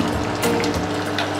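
Crushed garlic with lentils and cumin sizzles in hot tempering oil for a mango dal, a short, close, steady crackle and hiss with no voices.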